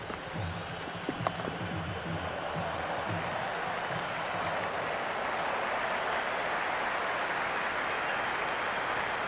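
Cricket stadium crowd at a CSK vs MI match, a dense roaring buzz of cheering and clapping from the stands that swells and holds steadily, with faint commentary-like voices beneath.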